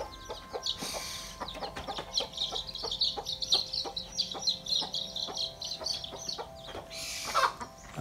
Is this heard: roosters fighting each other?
yes